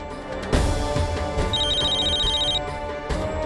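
A phone rings with a high electronic trill over a dense background of music and low rumble, fairly faint and lasting about a second.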